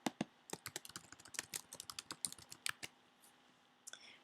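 Typing on a computer keyboard, a quick run of close, crisp key clicks in uneven rhythm, pausing briefly before a couple of final taps, quiet and without talk.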